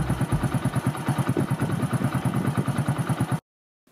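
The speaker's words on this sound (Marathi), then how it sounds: "हा मोटरसायकलचा आवाज ऐका." A motorcycle engine runs steadily with a loud, rhythmic throbbing pulse from start to finish, then cuts off abruptly near the end, leaving silence.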